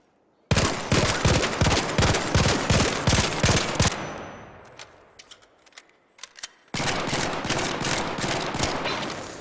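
Bursts of rapid gunfire from the Arpeggio weapon in a video game, loud and regular, stopping for a few seconds of fading echoes and scattered clicks before another long sustained burst.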